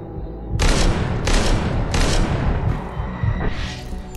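Rapid bursts of video game gunfire with a slowed Deadeye effect, several loud volleys booming in quick succession with a rumbling low end.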